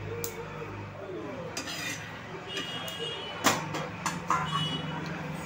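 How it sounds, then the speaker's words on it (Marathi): Peanuts dry-roasting in a pan over medium gas, stirred with a spoon: rattling, scraping strokes and occasional sharper clinks against the metal, fairly soft and continuous, with faint background voice. "आता आपण हे भाजून घ्यायचे आहे मीडियम गॅसवरती"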